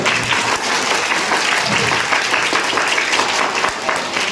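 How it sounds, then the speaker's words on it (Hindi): A large school audience claps loudly and continuously for teachers at a school event, a dense, even roar of many hands throughout. "हमारे गुरुजन लोगों के लिए बहुत जोरदार ढंग से ताली बजाओ"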